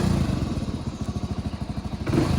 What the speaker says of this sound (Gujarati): હું મસ્ત બાઇક ચાલુ કરી લઉં.